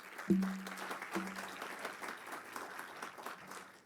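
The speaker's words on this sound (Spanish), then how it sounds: "Un fuerte aplauso nuevamente para la maestra." Audience applause welcoming a teacher onto the stage at a conference on political violence against women, a steady patter of clapping from a moderately distant crowd, with a brief tonal hum near the start.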